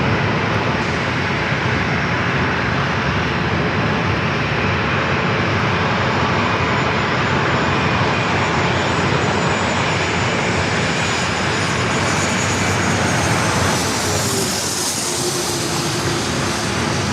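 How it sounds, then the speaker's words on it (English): A corporate jet at San Diego airport roars steadily and loudly for the whole stretch, a dense broadband engine rush with a slight shift near the end as it passes. "Looks like we're going to have another corporate jet up next."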